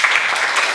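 Classroom applause during an Islamic religious education lesson in a school, a short burst of dense, even clapping that fills the moment evenly with no voices over it.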